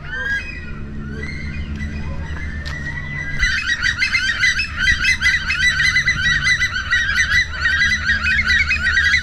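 Geese honk loudly and repeatedly, first a few calls over low rumbling, then a dense, raucous chorus of overlapping honks close by.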